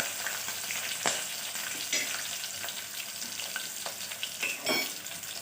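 Green chillies and curry leaves crackle and spit in hot oil for a mutton curry, a dense steady sizzle with sharper pops scattered through it, close and loud with no voices.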